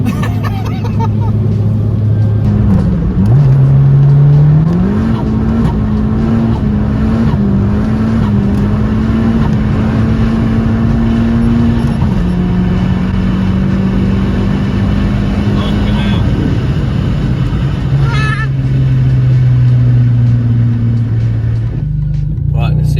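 A big-turbo Abarth 595 hatchback drives along, its engine droning steadily and shifting pitch as it accelerates through gears, close and loud from inside the car, with people talking over it.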